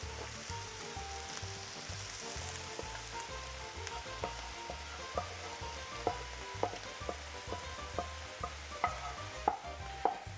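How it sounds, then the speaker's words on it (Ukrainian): Carrot, celery and onion frying with meat in a pan for bolognese sauce, a constant close sizzle punctuated by regular spoon taps and stirring scrapes, no speech. "в нас вже морква, селера та цибуля піджарилася, можна кидати її до м'яса"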